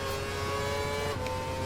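A Formula 1 car in the racing game F1 2012 holds a steady high engine whine at speed, with a faint shift in pitch near the end and no talk.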